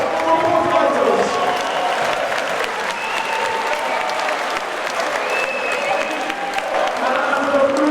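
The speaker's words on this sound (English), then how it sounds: "please, a massive round of applause for both fighters" Audience applause after a boxing-style fight in a ring, a dense steady clapping from a crowd that carries on throughout at moderate distance.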